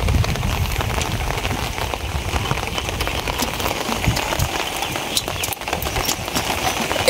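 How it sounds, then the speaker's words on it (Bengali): Rain falls outdoors in cloudy weather after a night of flooding, making a dense, continuous patter of drops on surfaces, loud and close with no speech. "কিন্তু আবার মেঘলা আবহাওয়া হয়েছে, বৃষ্টি নামতেছে।"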